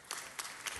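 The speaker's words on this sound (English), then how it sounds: "Give him a round of applause." Round of applause at a city council meeting, soft and somewhat distant clapping from a modest gathering, brief and steady.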